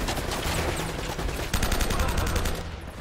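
Rapid automatic gunfire from a newly picked-up gun in the video game Uncharted: Drake's Fortune: a dense, loud rattle of closely spaced shots, thickest in the second half, over busy game noise.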